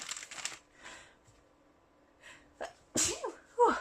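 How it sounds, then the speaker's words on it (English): A single sharp sneeze bursts out close up after some quiet rustling and handling noises, followed by faint shuffling. "I'm going to sneeze."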